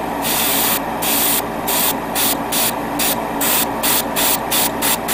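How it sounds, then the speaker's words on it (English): An airbrush sprays primer onto a Gundam model kit part, a steady close hiss broken into rapid rhythmic pulses as the trigger is worked, with no talking. "I have an extra airbrush ready to go with primer"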